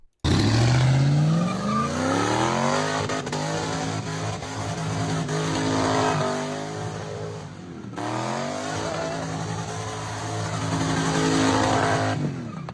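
A V8 Lexus sedan attempting donuts revs hard in repeated rising surges while its tires squeal continuously, loud and close throughout with no talking.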